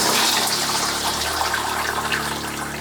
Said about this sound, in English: the fact that we can hear the pump running but she hasn't pressurized